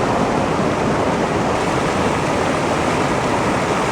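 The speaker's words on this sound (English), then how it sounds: "I think this is the deepest I've seen it. Yeah. It's a lot of water coming through." Deep floodwater rushes through outdoors in a steady, loud, broadband roar that holds constant without a break and with no voices over it.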